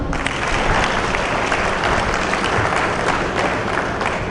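An audience bursts into steady, dense applause right after a stage magic trick at a community youth gathering, the clapping filling the space continuously and evenly for several seconds without a break.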